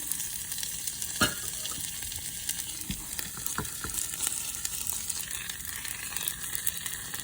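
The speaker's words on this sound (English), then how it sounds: "I'm just gonna add the carne right there." Beef for birria de res sizzles in a pan as a constant fairly quiet crackle, with a few sharp clicks or pops scattered through it and no talking.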